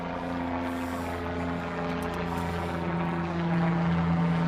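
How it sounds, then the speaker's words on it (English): A low aircraft passes overhead during an airlifting, likely a helicopter or propeller craft, its steady droning hum holding level throughout and swelling slightly toward the end. "Someone's getting airlifted."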